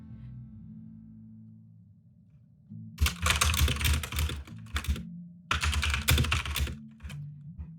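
Keys clatter in two dense bursts on a computer keyboard, loud and close, separated by a quieter pause, over a low steady hum with no talking.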